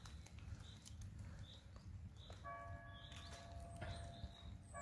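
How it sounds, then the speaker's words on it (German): Church bells ring faintly in the distance on a spring hillside, a few soft ringing tones surfacing over quiet outdoor background noise. "Hörst die Glocken läuten."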